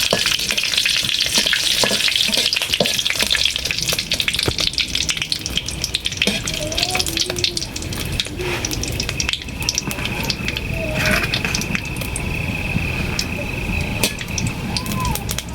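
Whole garam masala spices, bay leaves and dried red chillies crackling in hot oil for an egg omelette curry, a loud dense sizzle that runs steadily throughout with sharp pops and spatters.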